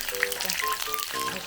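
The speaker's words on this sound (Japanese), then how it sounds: "先ほどの肉をフライパンで揚げていく。" Flour-coated marinated meat frying in oil in a frying pan, a steady close crackle and sizzle with bubbling spits throughout.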